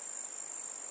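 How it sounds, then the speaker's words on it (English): A grasshopper gives a continuous high, hissing trill that holds steady and unbroken, moderately loud and heard alone. "Grasshopper."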